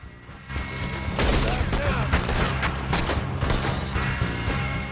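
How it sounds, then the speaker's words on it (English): Rapid bursts of gunfire in a Red Dead Redemption 2 gang shootout, dense loud cracks and booms stacking into a near-continuous fusillade after a brief quieter start. "Don't know what I'm shooting at there."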